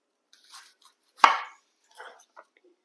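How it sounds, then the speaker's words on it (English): A knife chops through an onion on a cutting board in a quiet kitchen, making a few sparse, close taps with one sharper, louder chop in the middle. "Okay, we're going to chop one onion."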